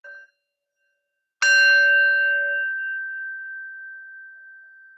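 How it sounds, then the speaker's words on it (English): A yoga practice bell is struck once after a brief earlier tap and rings out with a clear, pure tone that decays slowly over several seconds, heard alone in a quiet room. "taking the sound of the bell, following it to the end"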